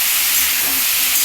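Water hits hot frying brinjal in a pan, giving a loud, steady steamy sizzle and hiss that runs without a break across a short stretch, with no voices.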